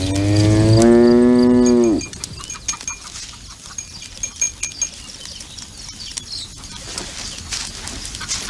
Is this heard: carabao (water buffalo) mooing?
yes